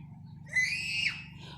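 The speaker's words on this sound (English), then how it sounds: "Pardon the kids in the pool screaming and all." Kids screaming and playing in a backyard pool, one shrill, drawn-out shriek rising and falling for about half a second over a low steady background hum, heard from a moderate distance.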